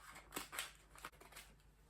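Scissors cutting fabric around a princess dart on a dress: several quiet, close snipping strokes in an uneven rhythm, heard alone.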